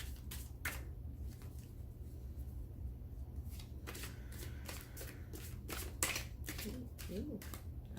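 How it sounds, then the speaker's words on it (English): Tarot cards shuffled by hand in a quiet room, giving a run of crisp riffling and flicking bursts that come in uneven clusters over a steady low background hum. "let's have a fun shuffle"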